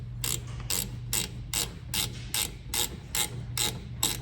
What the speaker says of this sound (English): I'm going to put those drain plugs back in, tighten them down.